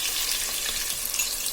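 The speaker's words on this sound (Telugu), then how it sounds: "బాగా డీప్ ఫ్రై చేయాలండి" Pieces of pomfret fish deep-fry in hot oil with seasoning spices for a pulusu, giving a close, continuous crackling sizzle with no voices.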